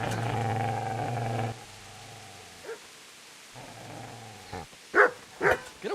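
A dog in the Kingdom Come: Deliverance video game barks and yips several times in short sharp bursts, close and fairly loud, following a stretch of low droning background sound.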